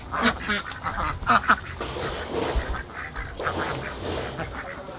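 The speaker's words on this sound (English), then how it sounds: "The ducks are back." Ducks quack repeatedly in an outdoor garden setting in Canada in spring, with clustered calls near the start and scattered calls later over a steady ambient background.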